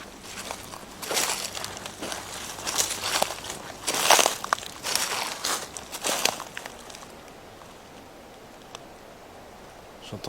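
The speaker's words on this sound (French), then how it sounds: "J'entends vraiment des bruits de pas" Heavy footsteps crunching through leaves and undergrowth in the woods, a series of irregular rustling steps roughly a second apart that fade out toward the end, against a quiet outdoor background.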